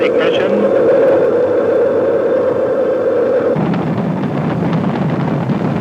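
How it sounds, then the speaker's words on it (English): Space Shuttle Challenger main engine ignition at liftoff on its sixth flight: a loud, steady broadband roar that fills the whole clip and shifts into a deeper, rougher rumble partway through, with no voices over it. "We have main engine ignition."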